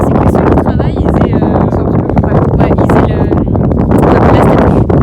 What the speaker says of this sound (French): Non mais il y a du vent.